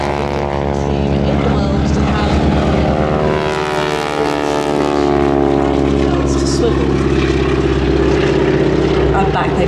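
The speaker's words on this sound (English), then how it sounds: "450 horsepower of Pratt & Whitney engine, and the tips of the propeller go supersonic, creating that very distinctive rasping noise." Stearman biplane with a 450 hp Pratt & Whitney radial engine, its propeller tips going supersonic, roars loudly and steadily overhead during a wingwalking air display, with a harsh rasping drone, and an announcer talks over it.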